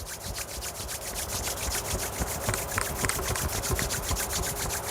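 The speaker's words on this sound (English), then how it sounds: "Rub your palms together." Palms rub briskly together during a yoga session, a continuous close rasping friction with a rapid back-and-forth rhythm that stays fairly quiet and steady throughout, without any talking.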